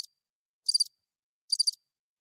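A cricket chirping sound effect: two short, high trilled chirps about a second apart, isolated against complete silence.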